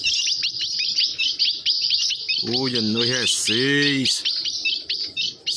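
Ultramarine grosbeak (azulão) chirping steadily with rapid high notes, close and clear, while someone speaks briefly over part of the song.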